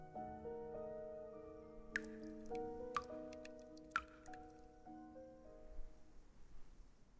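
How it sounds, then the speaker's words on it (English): Water dripping with an echo in the video game Reverse: 1999, a few sharp, distinct drops spaced about a second apart over sustained musical tones, with the ambience fading toward the end. "The sound of dripping water echoes nearby."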